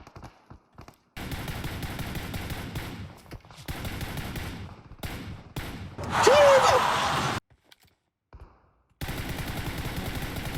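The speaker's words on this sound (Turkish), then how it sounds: "buraya kaç kişi birden mermi atıyor be" Rapid automatic gunfire in PUBG Mobile comes in loud bursts separated by short silent gaps, with a louder whooshing burst near the middle and voices mixed in.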